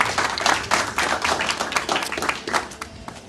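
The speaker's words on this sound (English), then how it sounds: "So just like to just give a round of applause for those guys." A crowd at a basketball association corporate networking event claps for the sponsors, uneven, close-sounding hand claps with distinct sharp strikes, swelling and fading over a few seconds.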